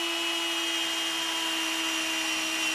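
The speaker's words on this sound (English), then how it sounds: "I'm gonna swap over to my right angle drill to be able to get this accomplished" Steady whine of a right angle drill boring holes through the steel frame of a 2019 GM truck, a continuous high-pitched tone held close and loud throughout with no talk.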